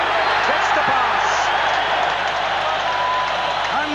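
A crowd at a Rugby World Cup match between France and Tonga at Loftus Versfeld cheers and applauds a Tonga try, a loud, unbroken roar of clapping and shouting that stays high the whole time.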